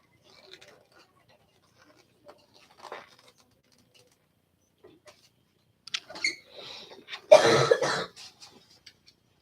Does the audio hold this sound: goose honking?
no